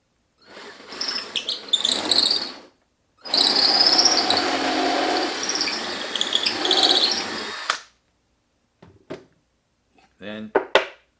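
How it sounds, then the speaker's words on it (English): A power drill whirs in two sustained bursts, close and loud, with a short pause between, followed by quieter clicks and brief handling sounds. "And then simply drill the hole."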